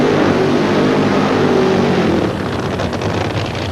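Funny Car drag racers launch side by side at Brainerd International Raceway during 1988 NHRA Funny Car Eliminator, a loud, dense, roaring engine blast that eases slightly toward the end.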